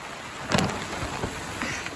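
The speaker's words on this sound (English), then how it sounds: "It just started to pour down rain as I'm trying to pull this" Heavy rain pours down outdoors beside a garden with a tunnel cover, a steady hiss of falling water with a few sharper splashes and knocks on top, fairly close.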